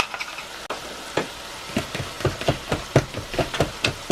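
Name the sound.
stirring sizzling meat mixture in cast iron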